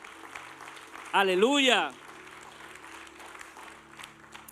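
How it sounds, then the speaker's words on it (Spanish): A church congregation applauds in a steady wash of clapping, while one voice rises loudly over it with a brief shouted exclamation near the start. "Denle el aplauso fuerte al Señor."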